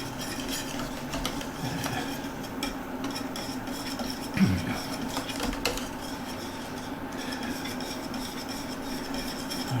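Steady whisking of a sauce for Kentucky Hot Brown in a metal pan, a continuous scraping, rubbing texture with faint utensil clinks and one brief louder knock near the middle.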